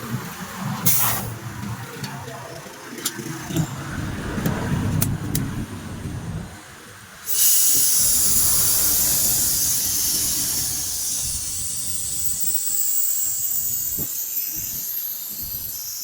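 A vacuum pump evacuates the air-conditioning system of a Toyota Vios after an O-ring leak repair on the low-side piping. It starts midway as a loud, steady hiss that holds without a break after a lower rumbling stretch.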